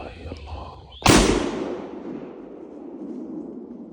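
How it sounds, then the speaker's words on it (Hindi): A single sharp rifle shot at a deer during a hunt near sunset, loud and close, follows quiet ambient sound and trails off into a long fading echo. "बिस्मिल्लाह अल्लाहु अकबर पढ़ के गोली चलाई।"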